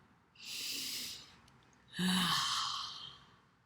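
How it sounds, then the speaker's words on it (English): Two slow, deep breaths close to the microphone, a soft inhale and then a longer, fuller exhale with a slight throaty sigh, with no other sound around them. "Let's take a deep breath together"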